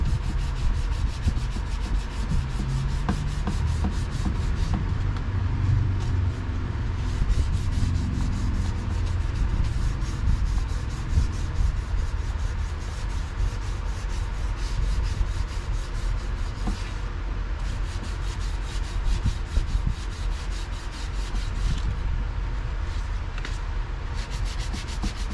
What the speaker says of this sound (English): You don't want to take off the primer, you just want to sand a little bit to make it a smooth surface.